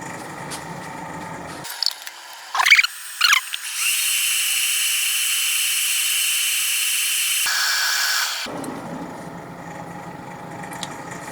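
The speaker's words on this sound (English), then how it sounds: "And turn the tenon off the bottom." A wood lathe cuts a tenon off the bottom of a small turned piece: a few short knocks and scrapes, then a steady, bright hissing cut held for about five seconds before stopping, with quiet room noise around it.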